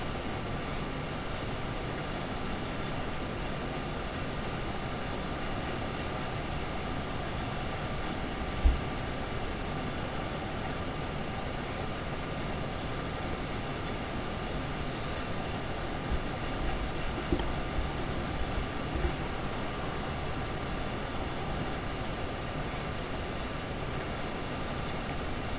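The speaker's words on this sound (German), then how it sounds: "Der Zug will gerade nicht beschleunigen." Steady rumble of a train running in Train Sim World, a dense continuous drone with an even mechanical hum and a few soft knocks, unbroken throughout with no voices.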